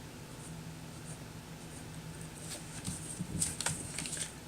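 A pen scratches long looping strokes across a paper card, soft continuous scraping with small taps and brighter scratches toward the end, close and quiet.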